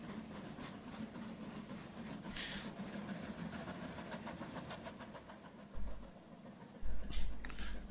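A train runs in the video game Transport Fever, giving a low, steady rumble with faint rhythmic clicking of wheels on rail joints, quiet and continuous, with a couple of brief louder thumps near the end.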